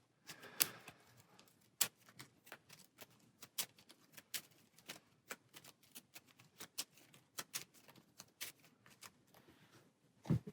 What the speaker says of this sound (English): Then this gets shuffled back in.